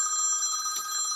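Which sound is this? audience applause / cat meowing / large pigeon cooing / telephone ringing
telephone ringing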